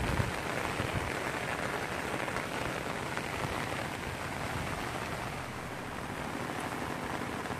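Light rain falls steadily outdoors near a creek, a continuous soft hiss of drops on surfaces with no voices, holding even and unbroken throughout.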